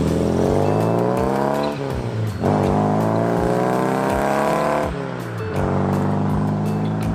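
A car with a rare V4 engine revs hard and accelerates, its loud, steady engine note rising in pitch, briefly dipping at two gear changes, then climbing again. No voices are heard.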